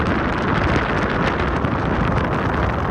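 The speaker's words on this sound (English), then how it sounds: "That wind was crazy," A strong northerly wind, gusting past 50 miles an hour, roars across a long pier in Wales as a steady, loud buffeting rush against the microphone.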